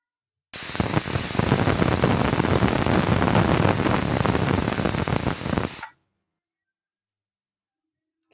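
Loud, steady hiss of steam venting from a pressure cooker while cooking paneer salna, for about five seconds, then it cuts off abruptly into silence.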